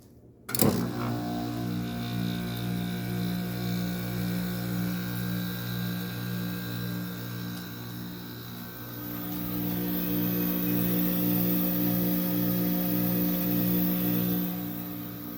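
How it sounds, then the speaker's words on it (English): A 7.5K Fedders AirTemp casement air conditioner from the mid-90s kicks on after two years idle, its compressor starting with an abrupt thump and then settling into a steady, loud electrical hum that strengthens partway through. "We'll get a compressor start up. This is the first time it started in 2 years."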